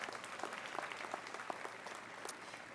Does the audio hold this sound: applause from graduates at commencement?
yes